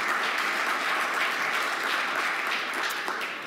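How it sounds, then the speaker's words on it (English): Sustained round of applause from an audience welcoming guests at an academic business event, dense and steady throughout with no gaps, fading slightly at the end. "So let's give them a round of applause, shall we, for welcome them."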